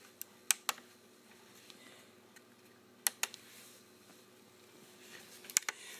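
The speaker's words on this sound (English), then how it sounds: "the buttons have a really nice satisfying click to them" Touchpad buttons on a Dell Latitude C500 laptop clicking in a few sharp, close, quiet taps, mostly in quick pairs spread over a few seconds, with no talk.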